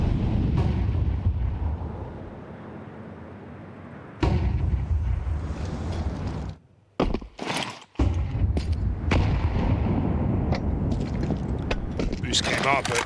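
Grenades bursting in a Counter-Strike match, smokes and utility thrown outside, producing loud broadband blasts and whooshing hisses in a dense sequence, with a brief quiet gap midway and commentary-like game noise around.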